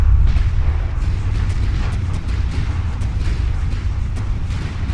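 Rapid, continuous booming cannon fire from a video game, dense overlapping blasts with a low rumbling roar throughout.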